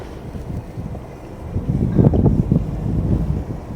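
A Prestige F4.9 motor yacht manoeuvring sideways at a pontoon: low rumbling engine noise with water sloshing and gusts of wind buffeting the microphone, growing a little louder midway through.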